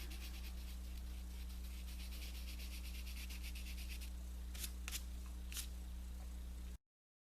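Colored pencil shading lightly across paper over a skin area, a soft continuous rubbing of steady strokes under a constant low hum, with a few sharper scratchy strokes toward the end.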